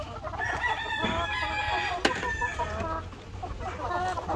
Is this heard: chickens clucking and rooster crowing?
yes